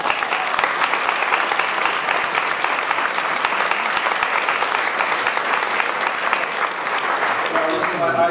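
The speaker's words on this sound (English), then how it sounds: "Well, let's clap for a good day, right?" Steady, dense applause from an audience at a prison reform bill event, sustained throughout at a constant loud level with no break, fading only slightly near the end.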